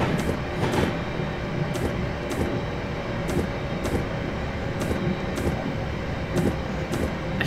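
A London Midland train running through winter Trent Valley in Train Simulator 2018, heard as a steady loud rumble with regular clicking wheel beats along the rails, no talking.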